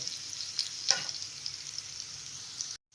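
Salt is stirred by hand into a ground spice paste for a drumstick curry, producing a faint, steady hiss with a couple of light clicks before the sound cuts out.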